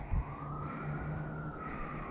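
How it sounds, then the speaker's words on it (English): Distant emergency vehicle sirens wail faintly, with one slowly rising and falling tone carrying through low background rumble at a fire call-out. "There's even more sirens."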